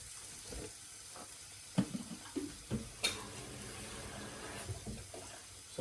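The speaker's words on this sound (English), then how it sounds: "just took in a little bit of water from the kettle, just added that into there" Water poured from a kettle splashes and trickles in an uneven stream into a cauliflower and potato curry, with a few clinks and knocks, close by, with no talking.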